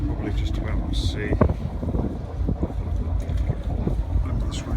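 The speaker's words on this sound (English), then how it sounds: "Loads of cooling water. Sounds like a good runner." Starboard exhaust of a Trader 50 boat's marine diesel engine under the swimming platform, discharging cooling water with a continuous low splashing rumble, wind buffeting the microphone and voices talking nearby.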